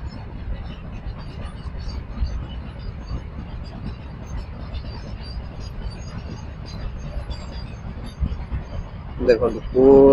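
Loaded freight train passing on a railway near Cuttack, a steady low rumble under nearby talk, growing louder toward the end with a brief brighter burst.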